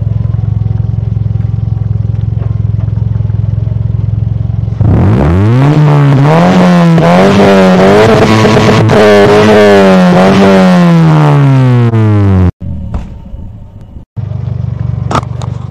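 A modified Toyota Vios with a custom exhaust idles, then revs hard to about 3000-4000 RPM in repeated rising and falling blasts, loud and close, before cutting back to a rough idle with brief drops.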